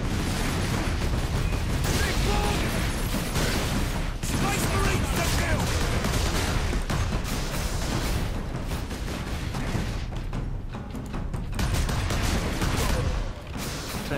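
Plasma weapons firing in the video game Space Marine: a relentless dense barrage of rapid energy shots and explosions, loud and continuous throughout, with mechanical clatter mixed in.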